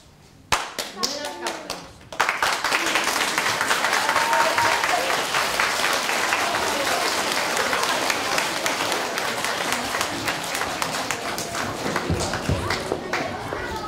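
An audience claps for a children's theatre performance at a school theatre review, starting with a few scattered claps before swelling into steady, full applause that lasts throughout, with voices mixed in.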